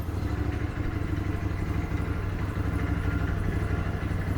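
Freshly started after a plugged fuel line was cleared, an Argo ATV engine idles quietly and evenly in the background, a low steady chug with no voices.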